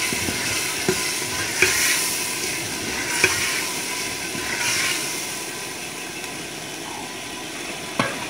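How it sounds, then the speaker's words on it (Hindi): Carrots and peas being stirred and fried in a pan: a loud, steady sizzle with a few sharp taps of a spoon against the pan, heard up close. "अब हम इसमें गाजर और मटर डालेंगे।"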